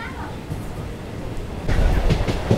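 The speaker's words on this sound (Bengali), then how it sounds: "আর এই পাশ থেকে ঢুকছে দীঘা থেকে হাওড়া সামার স্পেশাল ট্রেন।" The Digha to Howrah summer special train rolls into a station, a low rumbling that swells louder in the second half with rhythmic wheel clatter, background voices faintly present.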